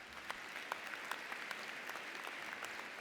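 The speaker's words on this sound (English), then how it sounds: "Give yourselves a round of applause" Graduates at a business school commencement ceremony applaud themselves in a continuous, even patter of many hands, moderately loud with no voices rising above it.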